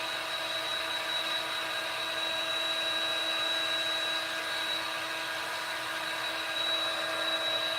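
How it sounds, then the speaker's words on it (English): A heat tool on its coolest setting blows air to dry a transfer, giving a steady, continuous whirring blower hiss with a faint high whine, unchanging throughout. "I'm going to put my heat tool on the coolest setting possible. I'm going to give it a little dry."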